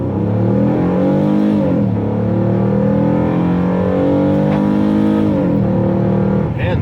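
A 2008 Ford Fusion with a 3-litre V6 accelerates hard, its engine note climbing steadily through the revs in a strong, continuous drone heard from inside the car, with a brief shift partway through.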